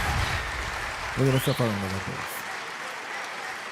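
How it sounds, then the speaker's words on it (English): A steady wash of applause runs underneath during a live podcast, holding at an even level, while a voice speaks briefly in the middle. "Let me give myself a round of applause"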